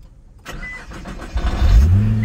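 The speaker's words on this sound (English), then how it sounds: "I'm going to start this up so we can hear the engine." A 2016 Nissan GT-R engine cranks with a quick starter whir, then catches and roars up into a deep, loud, rumbling idle close by.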